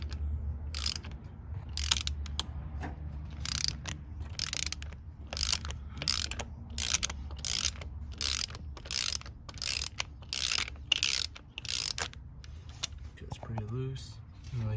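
A ratchet clicking rapidly in repeated strokes while loosening a bolt on a 1991 Honda Prelude engine, close and crisp bursts of ticking with short pauses, a brief voice near the end.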